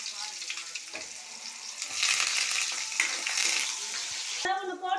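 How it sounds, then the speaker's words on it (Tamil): Onion tipped into hot oil with popped mustard seeds and chana dal, the sizzle swelling into a loud close frying hiss with stirring clatter, and a short vocal sound at the end. "வெங்காயம் ஆட் பண்ணிக்கலாம்."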